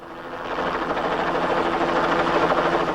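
A helicopter with a jammed rear rotor roars loudly and close, a dense rising engine and rotor drone that swells in the first half second and then holds steady, with no voices.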